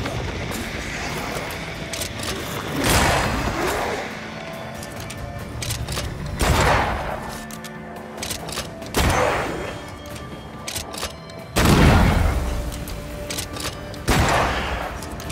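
Repeated bursts of gunfire in the video game Banishers: Ghosts of New Eden, loud volleys of shots every couple of seconds over a constant rumbling game soundscape.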